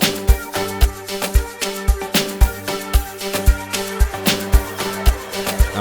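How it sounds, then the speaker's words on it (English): A flex synth melody in an amapiano mix plays over a steady rhythm of deep log-drum hits, with repeating bright tonal phrases and regular punchy low thumps throughout. "And then I also have this flex sound melody here."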